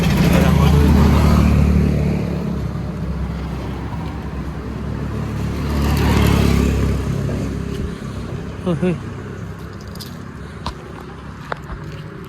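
A Force Traveller van's engine rumbles loudly up close, swelling as it is revved, then eases into a lower running idle with a few small clicks and knocks.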